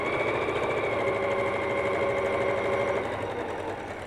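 Sewing machine stitching four patch quilt pieces together across interlocked seams, a steady continuous mechanical whir with a fine rapid rhythm, close and fairly loud, holding even for about four seconds before easing slightly at the end.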